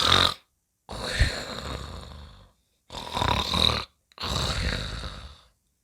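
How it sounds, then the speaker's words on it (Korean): Loud, rhythmic snoring from a man asleep in the shade of a tree nearby: four long rasping snores separated by short silent pauses. "나무 그늘에는 부자가 코를 골며 자고 있었지요."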